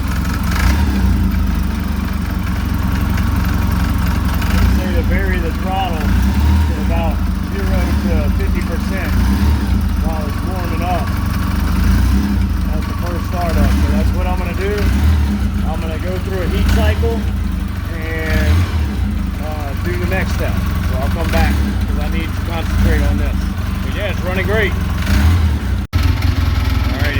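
A freshly rebuilt Polaris RZR 800 engine from a 2013 RZR 800s runs loud and close, its pitch rising and falling as the throttle is varied, with someone talking over it.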